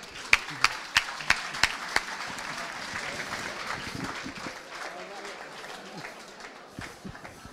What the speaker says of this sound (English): Jetzt applaudieren die Leute schon für dich